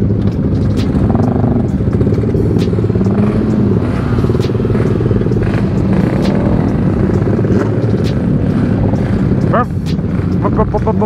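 A motorcycle on a Sunday morning group ride around Bogor, Indonesia, its engine droning loud and close in a sustained roar with rattling clatter throughout.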